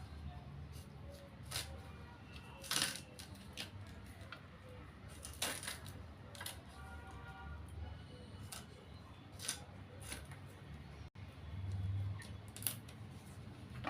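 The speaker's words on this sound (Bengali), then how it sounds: "এভাবে পাতলা পাতলা করে কলাগুলো কেটে নেব।" A knife slices green bananas thinly, a series of sharp, crisp cutting clicks at an irregular pace, close by, over faint background noise.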